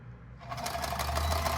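A Kenmore 10 Model 1251 sewing machine, freshly oiled, spins up from quiet into a fast, steady mechanical whir with a rapid rhythmic clatter, close and continuous.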